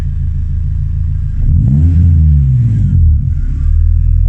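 A classic Mini fitted with a Honda VTEC engine accelerates with a loud, steady mid-pitched engine drone that rises and falls in pitch as it revs up through the gears, with no talking.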